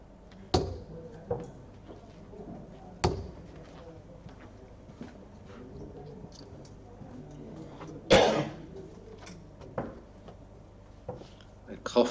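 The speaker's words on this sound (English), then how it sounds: "A cough there." A single sharp cough from an audience member at a PDC Nordic & Baltic Pro Tour darts match breaks through quiet hall ambience, with scattered soft knocks and thuds around it.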